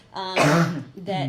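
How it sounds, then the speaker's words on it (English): A person gives a single short throaty cough during a live talk, close and sharp, with speech just before and after it. "it was actually a cough"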